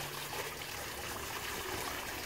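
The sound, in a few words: water flowing out of fish pond pipe outlets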